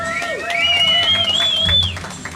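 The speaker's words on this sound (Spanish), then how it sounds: "fuerte ese aplauso que se escucha" Crowd applause and cheering at the coronation of a sound-system queen, a sustained burst of clapping under a loud whistle-like tone that rises and falls, with voices mixed into the noise.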